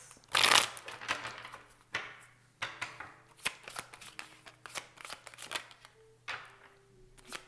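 Tarot cards are shuffled by hand in a quiet room, a burst of riffling followed by a series of crisp, separate slaps and flicks at irregular intervals, close and fairly soft.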